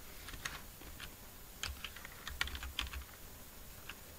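Keystrokes on a computer keyboard while entering a file path in Kali Linux, quiet scattered clicks in short irregular bursts with pauses between, no one talking.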